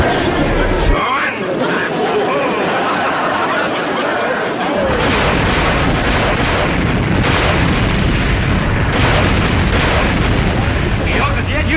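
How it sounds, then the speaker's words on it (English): Explosions near a rowboat on the water, from a 1960s sitcom scene, roll as a dense continuous roar of booming blasts and splashing that grows heavier midway and stays loud throughout. "Look at them explosions, throw that water in the air."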